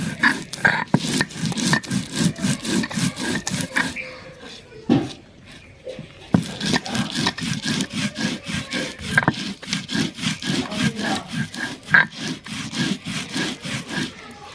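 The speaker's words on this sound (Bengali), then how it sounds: "এবার চালটা বেটে নিচ্ছি।" Soaked household rice is ground into paste on a grinding stone for radish pakora, with rhythmic back-and-forth scraping strokes in repeated bursts and a short pause midway, close and fairly loud.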